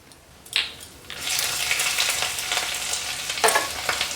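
Peanuts and grated ginger are stirred in a frying pan, with a bright, hissing sizzle that swells after a second and a couple of sharp scraping clatters from the spoon.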